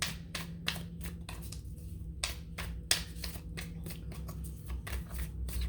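Wild Unknown Animal Spirit tarot cards are shuffled by hand, producing rapid, crisp flicking riffles in quick bursts, close and fairly loud over a low background hum.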